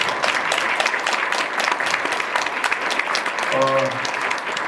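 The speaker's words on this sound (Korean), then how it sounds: "우리 김종주 과장님 오셨는데 박수로 환영해 주십시오" Audience at a textile industry sustainability forum launch applauding to welcome a guest, a dense, steady round of clapping throughout with a brief tonal chime or ringtone near the end.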